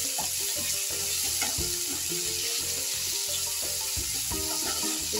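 Homemade masala sizzles and fries in a pan for vegetable biryani, a continuous close crackle with clinks and scraping from stirring throughout.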